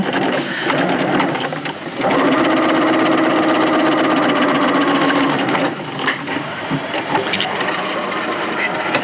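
A sewing machine runs in a loud, close, steady whirring burst for several seconds as it stitches a pocket into a garment seam, then stops and gives way to softer handling noises and shorter stitching bursts.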